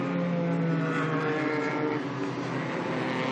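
Race car engines of Ligier prototypes roar steadily at Le Castellet, a loud, continuous high-revving drone with engine harmonics sustained throughout, no voices.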